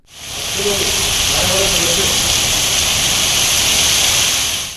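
Heavy rain driven by strong headwinds around the Yadadri hill temple, a loud dense roaring hiss that holds steady and close throughout, with a faint voice briefly under it.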